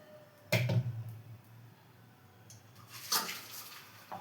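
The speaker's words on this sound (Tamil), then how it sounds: "ஆயில் எண்ணெய் ஊற்றி" Cooking oil is poured into a kadai for chicken biryani in two short, faint liquid splashes, one near the start and another later, in a quiet kitchen.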